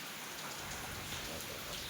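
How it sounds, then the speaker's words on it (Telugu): Heavy rain during a summer storm hisses steadily and close, a constant roar of drops on surfaces without a break. "ఏం వర్షం అబ్బా"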